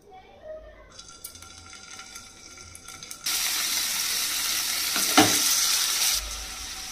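Paneer pieces frying in a little oil in a pan for palak paneer, a steady bright sizzle that jumps louder partway through and holds, with a brief clatter of stirring, no talk.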